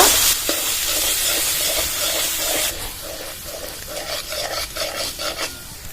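Spice masala with turmeric, chilli powder and salt fries in a pan for a fish-head chhyachra, first as a bright sizzle, then as rhythmic scraping strokes of a spatula stirring it.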